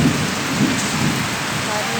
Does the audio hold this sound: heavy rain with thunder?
yes